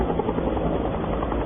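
A U.S. Special Forces helicopter thuds with steady, loud rotor chop and engine drone, close and continuous throughout, with no voices.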